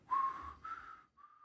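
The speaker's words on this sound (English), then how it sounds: "he does this little whistle like." A villain's menacing little whistle from the animated film Puss in Boots: The Last Wish: a clear, close whistled tune of two drawn-out notes, a brief pause, then a third held note, with no other sound.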